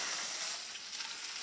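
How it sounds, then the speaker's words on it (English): Potatoes frying steadily in a pan, a dense, even crackling sizzle that holds at a constant level throughout with no voices. "I'm just going to let the potatoes fry"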